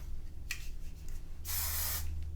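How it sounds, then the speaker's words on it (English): Hairspray hisses from a can onto teased hair in one half-second burst, loud and close, after a brief softer spritz earlier, with quiet room noise around it. "put a little spray in it."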